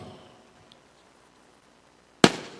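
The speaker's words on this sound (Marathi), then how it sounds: "फटाक्यांच्या आतिषबाजी आपण होताना पाहता" At a local cricket match, a single sharp firecracker blast bursts out near the end after a stretch of near silence, loud and close, with a brief crackling tail.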